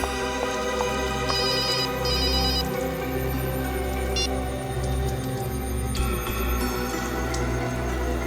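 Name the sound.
telephone ringing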